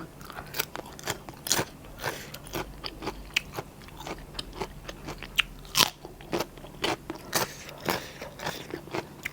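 Someone bites and chews fried Isan sausage close up, with a run of sharp crunchy bites and crackles separated by softer chewing sounds, and no talking.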